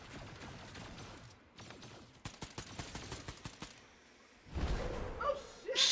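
Gunfire aimed at the player in a video game comes as a quick rhythmic string of sharp shots, about nine in a row, amid muffled ambient noise and a louder blast near the end.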